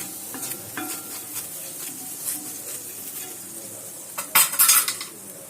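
Salted hot water splashed onto a hot pan before cooking naan gives a sudden loud sizzle and hiss near the end, following quieter scraping and metallic clinks of cookware.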